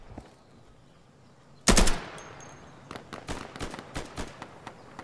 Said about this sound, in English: that was gunfire from the room